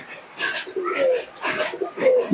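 A pair of Giribaz pigeons coo in repeated soft throaty phrases, close by, with a few brief chirps between them.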